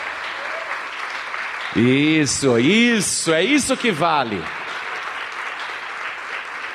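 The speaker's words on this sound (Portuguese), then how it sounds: "Vamos aplaudir o Senhor Jesus." Congregation applause at an evangelical church service, a steady wash of clapping running throughout while someone speaks loudly over the middle part.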